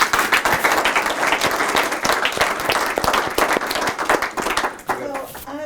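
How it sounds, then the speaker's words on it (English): An audience applauds panelists at an entrepreneurship and project management event, with dense, steady clapping filling the room before a voice speaks over the fading end. "Come on, guys, give the panelists a round of applause."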